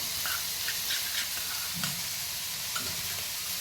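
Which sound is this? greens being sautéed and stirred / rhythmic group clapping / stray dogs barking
greens being sautéed and stirred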